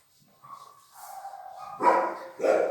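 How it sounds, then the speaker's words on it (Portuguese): A dog barks in short bursts: soft whines and yips at first, then two louder, sharper barks close by near the end, with no voices. "agora o cachorro começou a latir"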